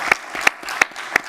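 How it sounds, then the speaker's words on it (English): Audience at an economics research conference applauding, a short burst of steady hand claps from the room with no talk over it. "Maybe another round of applause for the two."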